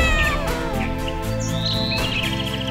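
A cat meows in a high, wavering, drawn-out call, repeated a few times close and loud, with chirpy tones and a music bed in an animated children's story.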